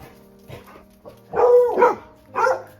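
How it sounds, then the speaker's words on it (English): Several dogs bark outdoors on a farm with horses, loud and close, in a few separate sharp bursts and clustered barks with short pauses between them. "I don't know what these dogs are barking at, but clearly they do."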